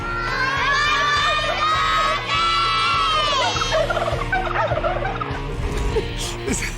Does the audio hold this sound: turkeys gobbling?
yes